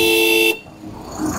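A car horn blares loud and close in traffic for about half a second, then cuts off sharply, leaving a quieter street rumble that swells slightly toward the end.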